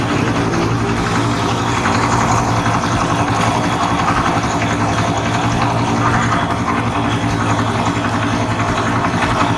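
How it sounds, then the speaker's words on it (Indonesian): A 1996 Honda Astrea Star motorcycle engine idles smoothly after an electric start, a steady, loud, even running drone with no rises or stumbles throughout. "Mesinnya masih halus sekali ya ini ya, tidak ada suara yang aneh-aneh, dan sekali starter langsung menyala."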